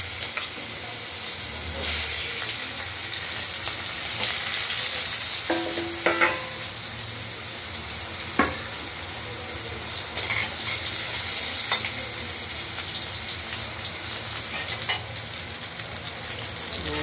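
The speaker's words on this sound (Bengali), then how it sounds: "জিরে ফোড়ন দিয়ে দিলাম। এবার আলুটা দিয়ে দেবো।" Potatoes frying in hot oil with cumin seed tempering for a paneer, potato and tomato curry, giving a steady close sizzle throughout with occasional stirring clinks and scrapes, no talking.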